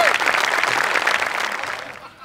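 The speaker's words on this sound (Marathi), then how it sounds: "जोरदार टाळ्या" Audience clapping at an award presentation on a Marathi comedy stage show, a dense, steady burst of applause that fills the room and then tapers off toward the end.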